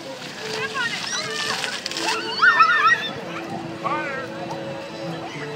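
Water splashes at a public fountain at an outdoor Saturday market in Portland, with children's voices and adults talking over the sloshing spray.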